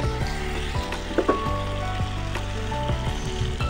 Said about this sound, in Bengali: এবার অমলেটগুলো দিয়ে ভালো করে কষিয়ে দেবো